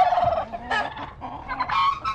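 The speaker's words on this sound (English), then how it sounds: "A lot of the chickens are out of the fence." Loose chickens outside a fenced run call loudly and close by, in several short bursts of squawking and clucking with brief gaps between them.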